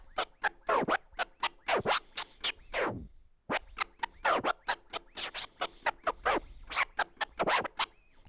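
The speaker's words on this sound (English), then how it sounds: "playing the first method, the baby scratch method, you can go through the sounds" Turntable scratching in the baby scratch technique, with rapid back-and-forth record strokes in a steady rhythm and a brief pause in the middle, close and fairly quiet.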